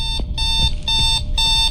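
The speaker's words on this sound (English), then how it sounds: "Uh-oh, alarm clock?" Alarm clock ringing in the ghost-hunting game The Other Side, loud repeated electronic beeping in short bursts with brief gaps, alone without talking.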